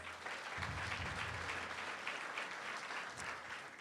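A crowd claps steadily at a community center grand opening ribbon cutting, honoring council members as they are named; sustained, dense applause at a fairly even level.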